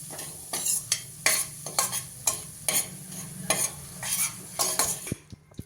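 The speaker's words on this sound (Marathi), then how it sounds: "तो थोडासा तांबूस परतून घेऊया" Fine semolina is stirred and roasted in ghee for a fresh green pea halwa, with a brisk, rhythmic run of about a dozen close spatula scrapes over a light sizzle that stops just before the end.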